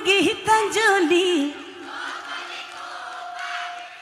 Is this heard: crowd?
yes